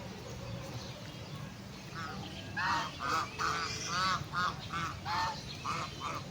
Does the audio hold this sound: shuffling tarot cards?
no